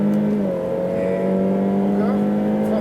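A Ferrari F8 Tributo pulls on a racing circuit in fourth gear, its engine a loud, steady droning tone that climbs slightly, with an instructor's voice faintly underneath.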